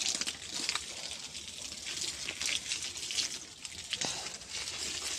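Water poured onto a field, a steady near rushing gush with faint trickling, fairly quiet and continuous, no talking.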